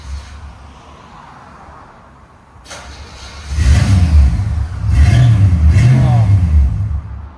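A 1969 Chevy Chevelle with a 307 V8, true dual exhaust and Flowmaster 40 mufflers starts and revs. It goes from a quiet idle to loud, rumbling throttle blips, with people talking over it.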